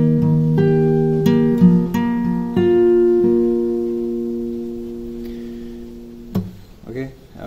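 Acoustic guitar picking the opening bar of the verse of a song, with single plucked notes ringing into sustained chords before fading out; played alone with no talking.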